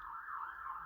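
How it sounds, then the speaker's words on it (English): A faint, distant ambulance siren on a road leading to a hospital wails in a slow rising and falling tone, steady and continuous, ending with a brief soft knock. "I'm sorry about the siren in the background there."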